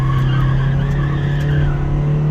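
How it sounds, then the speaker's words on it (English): A Toyota Innova Crysta turbo diesel MPV revs hard toward the red line with traction control off, a loud, steady, close engine drone holding for the whole stretch, with a squealing edge and no talking. "Let's just rev the car."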